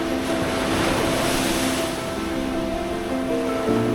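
Ocean waves at Toroudan beach wash in a steady broad surf hiss, moderately loud, with a faint low hum of a motor running underneath.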